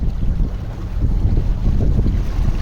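A Fuber Global 1.5kW portable electric outboard motor drives a small boat at full throttle, its low churning rumble mixed with heavy wind buffeting and water wash, steady and close.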